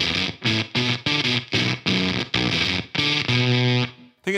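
Baritone guitar driven through a Beetronics Abelha fuzz pedal in pollen mode plays a run of chopped, saturated low chords, then rings out on a sustained fuzzy final chord that fades away, loud and up front.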